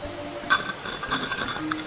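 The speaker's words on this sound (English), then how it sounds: "I'll try to cut a hole in the glass." Glass cutter scoring a hole in a window pane in an adventure video game, a brief scraping clink followed by thin ringing glass tones over a low ambient hum.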